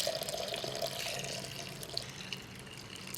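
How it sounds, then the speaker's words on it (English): Balsamic pickling liquid for onions is poured into a heat-proof measuring cup, giving a steady, fairly quiet splashing stream that runs for the whole stretch with no voices. "I think we can now pour the pickling liquid into a heat-proof measuring cup."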